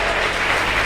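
A church congregation applauds during a sermon, a brief, dense burst of clapping heard close and fairly loud with no speech over it.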